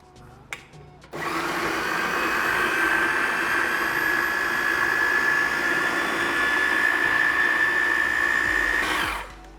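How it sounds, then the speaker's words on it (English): A kitchen blender purees coriander into a sauce, a loud steady whirring roar that starts abruptly after a faint opening click and runs without a break, alone and close, until it winds down near the end. "And we're gonna blend that up to a nice sauce."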